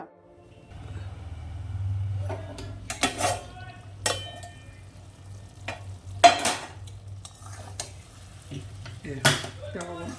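Taro stolons and shrimp stir-fried in a pan: a steady low sizzle runs throughout, broken by several sharp scrapes and clatters of a spoon against the metal, loud and close, with no talking.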